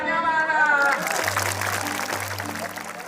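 An audience claps after a magic trick at a community gathering with police. A brief voice comes first, then a burst of steady applause.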